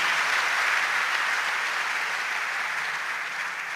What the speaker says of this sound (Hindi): आपकी तालियां उसे संबल प्रदान करें ताकि वो आनंद के साथ विदा आए।